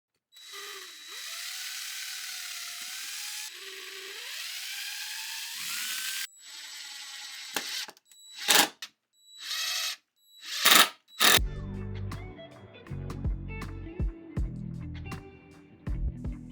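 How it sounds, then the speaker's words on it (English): A power driver sets screws into a display shelf, its motor whining with rising pitch in several separate bursts, followed by rattling mechanical clicks and grinding. Nobody speaks. "for additional stability, since this is a display shelf, I added in 2 screws as well"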